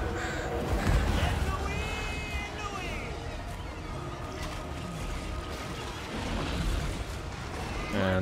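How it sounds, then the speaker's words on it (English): Crows caw repeatedly in Total War: Warhammer 2, harsh calls scattered over a busy, dense game soundscape with a low rumble underneath. "Get the crows going."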